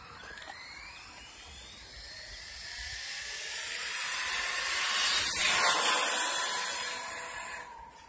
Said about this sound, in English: Guys, that was full throttle right there.